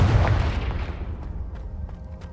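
A Confringo explosive spell blasts off in Hogwarts Legacy, a loud, close boom right at the start whose rumble slowly fades and rings out over the next two seconds.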